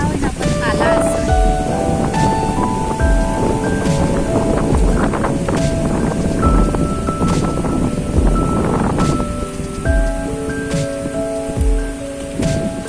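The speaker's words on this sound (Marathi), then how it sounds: "एवढं भारी वाटतंय ना पाऊस बघून" The season's first monsoon rain pours steadily on surfaces in a loud, continuous wash, with rumbles of thunder and sharp drips throughout.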